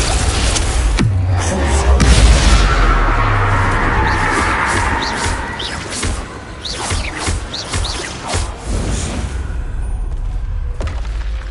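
Spell effects in the Hogwarts Legacy video game burst out as booms, bangs and crackling impacts, loud at first and then a run of sharp magical blasts, with a voice calling out spell names.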